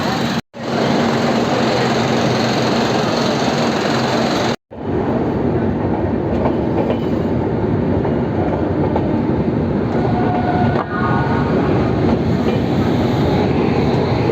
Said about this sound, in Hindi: तो अभी 2 मिनट के हॉल्ट के बाद अभी हम लोग रामपुर हाट से रवाना हो रहे हैं।